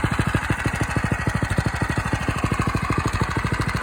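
A Coleman CT200U-EX Wildcat mini bike's 223cc engine runs steadily at idle, a close, rapid, even chugging with a constant mechanical hum and no voices.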